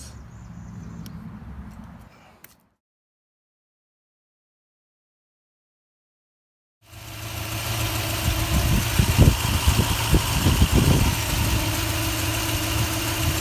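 A 2004 Toyota Tundra engine runs after a fan bearing repair, first a brief run, then a gap of silence, then a loud, steady close idle with some vibration.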